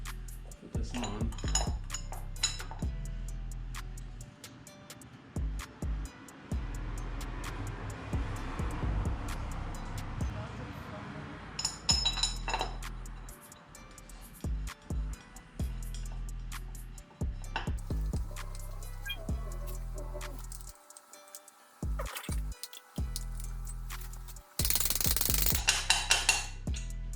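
Metallic clanks and clinks of tools and parts while an oil filter housing is taken off a Toyota 1JZ engine in a JZX90, in irregular bursts of close, fairly loud rattles with pauses between.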